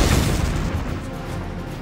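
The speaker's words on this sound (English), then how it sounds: "I'm just going to lob this grenade at this guy so we destroy his cover." Grenade blast in the Valkyria Chronicles video game, a loud close booming explosion that hits at once and rumbles down steadily over about two seconds.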